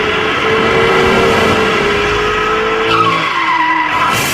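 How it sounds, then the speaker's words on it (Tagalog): A Ferrari's tires skid and screech loudly as another car hits it, a sustained wavering squeal with a pitch shift near the end and engine noise underneath. "Ferrari na ito nang banggain ng isang kotse"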